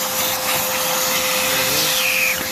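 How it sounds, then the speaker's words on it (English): A vacuum cleaner roars steadily and loudly up close while sucking concrete dust out of a freshly drilled anchor-bolt hole. Its motor holds a constant whine with a shifting, airy hiss throughout. "Grab your vacuum. Vacuum everything up from the hole."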